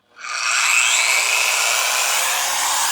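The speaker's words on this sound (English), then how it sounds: "here is the Torx random orbital polisher, 700 watts. Let's kick this on" A Torx 700-watt random orbital polisher spins up from silence to a loud, steady, high whirring hum that holds without a break, nearby and with no talk.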